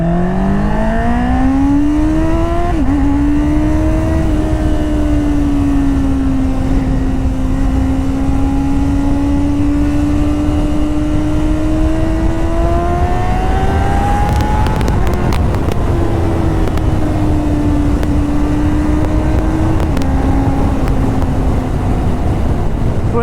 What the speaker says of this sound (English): Crazy, man, crazy acceleration.